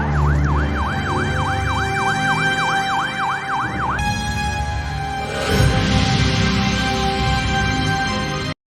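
A loud wailing police siren sweeps rapidly up and down for several seconds, then gives way to a noisy rumbling scene.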